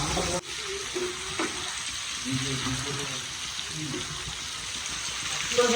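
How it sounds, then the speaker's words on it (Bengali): Duck eggs frying in a pan, a continuous moderate sizzle under background voices and household noise. "এখানে হাঁসের ডিম ভাজছে"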